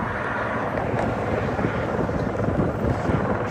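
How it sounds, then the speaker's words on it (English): Several helicopters flying overhead, a loud, steady rotor drone that fills the whole stretch with no talking. "Several choppers out."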